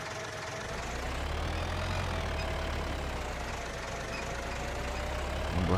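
Tractor engine in the video game Farming Simulator 25, a steady, fairly loud low idling drone with a faint whine, holding level throughout with no talking.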